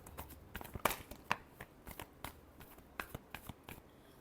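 Tarot cards being shuffled up close, a quiet run of crisp, irregular slaps and riffling clicks as the deck is cut and pushed together.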